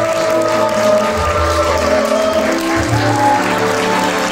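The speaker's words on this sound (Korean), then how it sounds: "큰 박수와 함성 부탁드리겠습니다" Loud, sustained clapping from a big wedding-hall audience fills the space, mixed with a crowd roar and steady background music.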